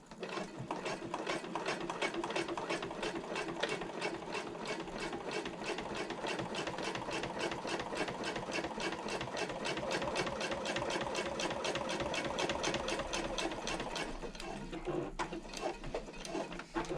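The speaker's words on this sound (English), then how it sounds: "I'm going to pivot and sew across the connector and then pivot again and sew down this side." Sewing machine topstitching across a handbag handle connector, a steady rapid mechanical chatter of stitches running continuously, close and clear with no talking.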